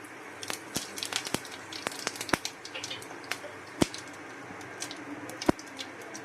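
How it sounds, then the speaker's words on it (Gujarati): Cumin seeds sizzling in hot ghee while tempering for jeera rice, sharp scattered pops and crackles over a soft steady hiss, fairly close and quiet. "હવે જીરું નાખી દઈશું."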